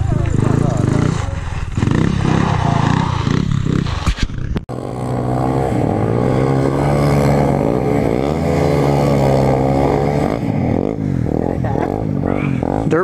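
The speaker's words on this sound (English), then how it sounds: "Dirt bike shenanigans, I got that on video." A dirt bike engine runs close by, droning and shifting pitch as it revs and pulls through the ride, loud and continuous with a brief break partway through.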